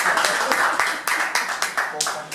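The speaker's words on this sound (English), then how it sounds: "You want to clap for us?" Small classroom audience clapping for student presenters, distinct rhythmic claps in a steady beat, close and fairly loud, with a voice faintly heard beneath.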